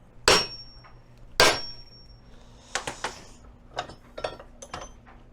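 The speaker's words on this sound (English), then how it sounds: "We'll start with a basic hammer." Two loud, sharp metallic hammer blows on a steel Demon bracket for a Toyota Tacoma, a second apart, followed by lighter clinks and taps of metal being handled.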